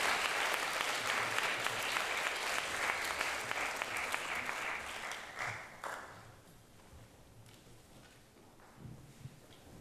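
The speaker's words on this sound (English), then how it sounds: "Now, please applaud and welcome the moderator of today, Professor Jiawei Li." An audience at a university salon talk in a lecture hall applauds to welcome the moderator, dense clapping that gradually thins out and fades into scattered claps and room noise.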